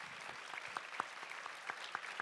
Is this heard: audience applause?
yes